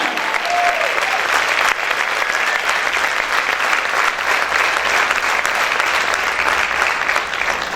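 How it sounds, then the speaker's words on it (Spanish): A large church congregation applauds loudly and steadily during a Spanish-language service, a dense, continuous wash of clapping that holds its intensity from start to finish. "¿Cuántos pueden aplaudir fuerte al Señor Jesucristo?"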